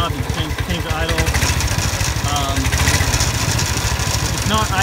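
A small glow-plug engine on an iWinch Skate winch idles steadily at close range, its rapid regular putter running throughout while a voice talks over it.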